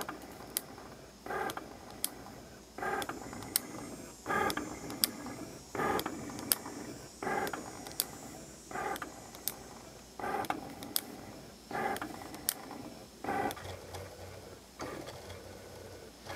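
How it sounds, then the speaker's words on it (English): A Cricut Explore cutting machine reads registration marks before cutting stickers, giving a quiet, rhythmic pattern of motor whirs broken by regular sharp clicks and ticks from its moving carriage. "So right now Cricut is reading the registration marks."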